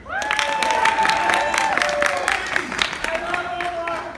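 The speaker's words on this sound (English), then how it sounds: "Insert applause here" Steady applause and cheering from a crowd fills the whole stretch, with some shouting mixed in.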